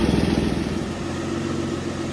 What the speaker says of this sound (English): Chevy Tracker has an exhaust leak.